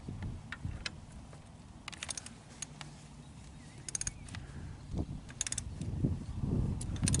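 An oil filter being hand-tightened on a Massey Ferguson 135 tractor, heard as close, intermittent metallic clicks and scraping turns with brief ratchet-like bursts, and no voices.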